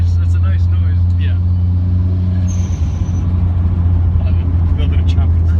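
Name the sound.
Nissan Silvia S14a turbo with screamer pipe dumping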